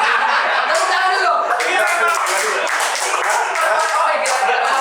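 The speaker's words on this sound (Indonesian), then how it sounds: "Tepuk tangan dulu." Clapping from an audience at a soft launch event, steady and dense throughout, with voices and some laughter mixed in.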